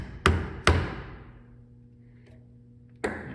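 Chisel blows strike a wooden workpiece while cutting a shallow start to a wedged mortice for Chinese/Japanese joinery: two sharp, close taps about half a second apart, a pause, then a third tap, each ringing briefly before fading.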